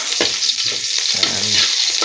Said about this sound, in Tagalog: Pag nagigisa ako, inuuna ko yung sibuyas.